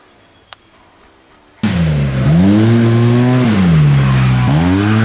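A Rockland Wheels Wildcat Sport 700 side-by-side starts up loudly after a quiet moment, its engine revving and climbing through gears up close with a brief dip in pitch midway.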